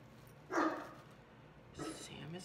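A dog barks indoors, giving two short, moderately loud barks about a second apart.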